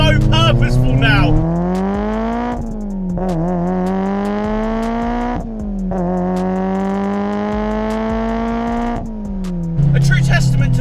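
A modified Mitsubishi Evo 7 with a screamer pipe exhaust revs up through the gears in three long rising pulls. Each pull ends in a loud turbo flutter and a brief dip before the next climb, and the engine stays loud and close throughout.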